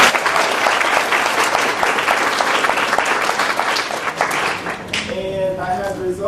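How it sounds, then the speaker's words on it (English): Audience at a university speech competition event breaks into loud, sustained applause for the judges, a dense wash of clapping that thins near the end as a voice begins speaking over it. "A round of applause for them."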